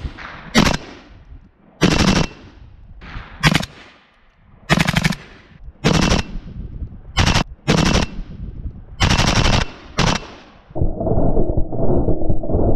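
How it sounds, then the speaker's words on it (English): An AK74 rifle chambered for Russian small-caliber ammunition fires about ten sharp, loud single shots at irregular intervals, each a hard crack with brief echo, close to the listener, followed by a steady lower rumble at the end. "Gun shot a few times."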